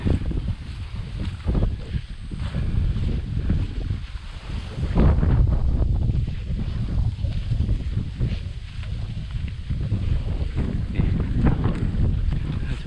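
Steady, gusty wind roars across the microphone while a giant three-metre two-section kite is flown, loud and continuous with no talk.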